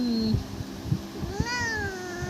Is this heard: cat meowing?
yes